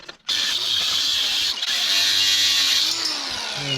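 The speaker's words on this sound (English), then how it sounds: "I'm going to grind it" An angle grinder bites into the edge of a metal compressor bracket for a Ford 5.0, a loud, continuous high-pitched grinding whine that starts abruptly and holds steady for several seconds.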